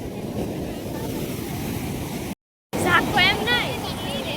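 Ocean waves roar steadily against the shore with wind buffeting the microphone; after a brief dropout, a voice talks over the surf.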